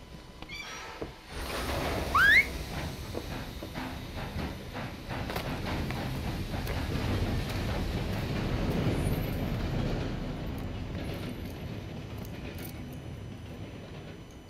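A train in Red Dead Redemption 2 rolls along at a steady moderate level, its wheels rumbling and clattering continuously, with a brief high squeal near the start.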